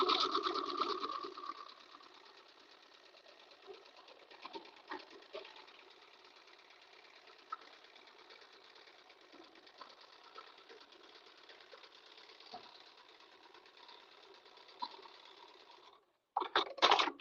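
Sewing machine stitching dyed Normandy linen, a steady continuous whir running for about sixteen seconds at moderate level, with a few brief louder bursts near the start and end.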